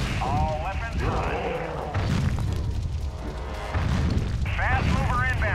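Heavy weapons fire and booming blasts from the Hulk Ultimate Destruction video game, a steady dense barrage with radio-style voices talking over it throughout.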